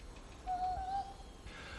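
An owl in Taiwan gives a single short, faint hoot at night against a quiet, hissy background.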